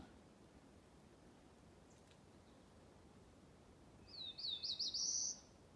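A bright, buzzy warbler song rises through a rapid series of notes, close and clear over faint forest hiss. Northern parula and black-throated blue warblers sing.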